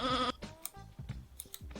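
Cartoonish sheep bleats from the video game Sheep, Dog n' Wolf, a loud quavering bleat up front followed by several shorter bleats and game sound effects scattered across the moment.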